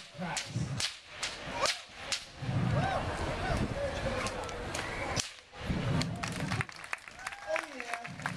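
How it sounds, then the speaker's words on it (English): A busker's whip cracking outdoors, several sharp snapping cracks spread irregularly through a lively street scene, with crowd noise and people talking around the strikes. "that's what you hear when the whip cracks."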